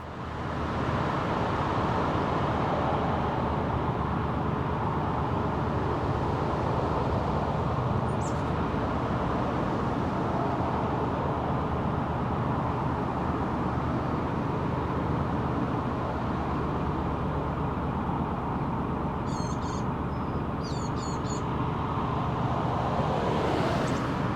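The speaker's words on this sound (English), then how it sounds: "after Bridge 48, the traffic starts getting loud" Road traffic beside the Macclesfield Canal past Bridge 48 makes a loud, steady roar that never lets up for the whole stretch, heard from a narrowboat with nobody talking.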